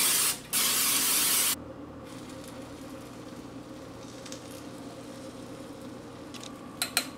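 A short, loud hiss of cooking spray onto a waffle iron, about a second long, followed by quieter kitchen room tone and a couple of small clicks near the end.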